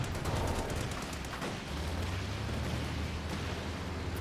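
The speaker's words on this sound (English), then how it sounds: "No, that's another machine gun actually." Rapid machine gun fire in a Company of Heroes 2 4v4 tournament match chatters faintly in quick bursts over a low, steady battlefield rumble.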